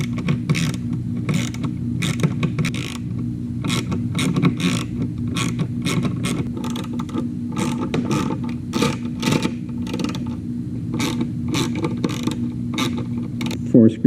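A ratchet backs out 3/16 screws from the HVAC display of a 2000 C5 Corvette. Steady, rapid clicking runs through the whole stretch at close range over a low background hum.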